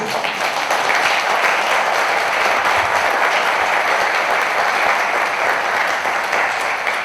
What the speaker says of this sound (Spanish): yo creo que merecen un aplauso solamente por eso